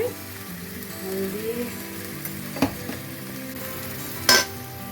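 Hilsa fish frying with spices in a pan for a Bengali-style curry gives a low, steady sizzle with a few sharp utensil clinks from stirring, while faint voices murmur in the background.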